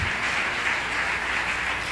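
A church congregation applauds, a dense, steady wash of clapping from many hands in a large room, sustained and even without a break.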